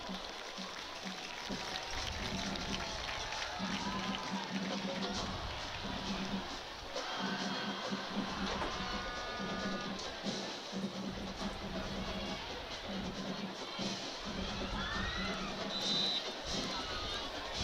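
Stadium crowd at a Friday night high school football game at Dragon Stadium, Southlake Carroll Dragons hosting the Keller Indians, applauding and cheering in a steady distant roar that runs throughout.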